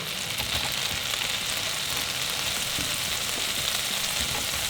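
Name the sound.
bread frying in a pan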